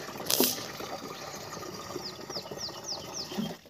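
Water pours steadily into a metal pan outdoors in rural Odisha, a continuous close splashing flow with a few brief squeaky chirps and a louder splash near the start.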